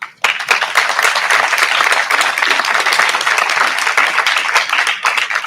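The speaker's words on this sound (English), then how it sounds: "please give a round of applause for Aiden Baltikoff" A graduation commencement audience applauds a student, many hands clapping in a dense, sustained burst that starts abruptly and stays full and lively before easing slightly at the end.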